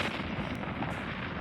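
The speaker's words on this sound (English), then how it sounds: "The explosion affects this area too." A Fallout 4 explosion rolls through the Nucleus Command Center beside the naval facility as a dense, continuous roar of rumbling blast noise, loud and steady for the whole moment with no voices.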